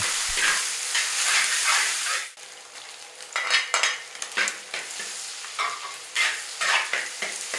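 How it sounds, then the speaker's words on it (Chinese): Minced pork stir-fried in a wok with oil and green Sichuan peppercorns sizzles loudly up close, a sharp hiss punctuated by repeated spatula scrapes and tosses, with a brief quieter dip partway through and no voices. "将肉末下锅翻炒均匀"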